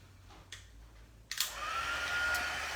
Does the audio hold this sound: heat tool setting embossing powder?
yes